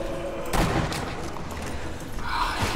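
Enemy sniper fire and explosions in the Sniper Elite Nazi Zombie Army video game, several sharp gunshot bursts and booms over a busy game soundscape, with no talk.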